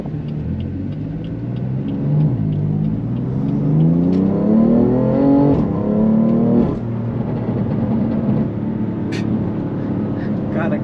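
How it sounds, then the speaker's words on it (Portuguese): A BMW M3 Stage 2 with an SSR downpipe revs hard up close, its engine note climbing and falling in loud, rising sweeps while someone talks excitedly over it. "cada acelerada nesse carro é um riso diferente"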